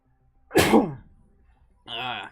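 One person sneezes loudly up close, then after a short pause makes a brief voiced sound.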